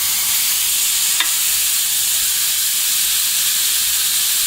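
Beef searing in a hot pan gives a steady, loud, even sizzle and hiss that never lets up, with one brief scrape partway through.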